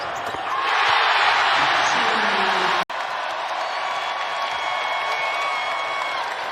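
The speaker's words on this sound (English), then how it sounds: "A lively crowd on a Saturday night in the Steel City" Lively arena crowd at a Saturday night Pitt Panthers men's college basketball game in Pittsburgh, a broad roar swelling early then holding steady, loud and continuous, briefly cut out midway before resuming slightly lower.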